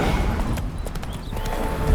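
Horse hooves clip-clop steadily on the ground in The Witcher 3 game, a continuous rhythmic trot heard close up with game ambience and no talking.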